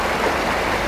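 Water rushing along a mountain stream on the path to the Purnagiri temple, a steady broadband hiss of flow heard close and alone for under a second.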